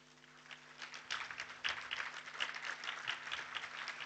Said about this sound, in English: If you could please stand so that we can clap for you.